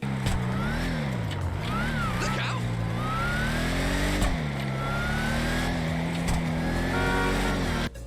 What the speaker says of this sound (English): And now take a listen to what the Imperator sounds like.